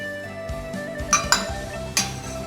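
Cooked glutinous rice balls scooped from a pot of boiling water with a metal ladle, a few sharp clinks and scrapes against the pot over a steady background hum, close and clear, no talking.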